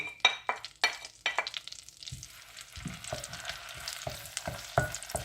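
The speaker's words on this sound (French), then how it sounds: "Le beurre il a bien fondu. Je mets mon oignon râpé." Grated onion frying in melted butter in a pan for a prune tagine, with loud sizzling and repeated sharp scraping strokes of a spoon stirring, close up and with no talking.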